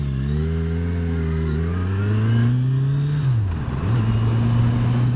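A 2018 Kawasaki Ninja 1000 four-cylinder motorcycle engine revs up smoothly, dips briefly and then holds steady, close and fairly loud with no one speaking.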